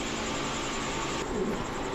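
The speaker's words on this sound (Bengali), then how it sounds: "এখন দেখাবো ছাড়া ছাড়ি লাইনের এক জোড়া বাঘা কবুতর" A pair of Bagha pigeons, male and female, at a pigeon seller's give soft, low cooing beneath a steady background hum.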